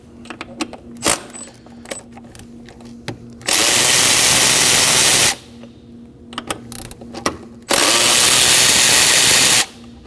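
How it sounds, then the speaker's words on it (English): A power tool with a 10mm socket removes throttle body bolts on a Kia Optima in two loud, steady whirring bursts of about two seconds each, separated by clinks and small handling noises. "Using a 10mm socket, go ahead and remove the four 10mm bolts."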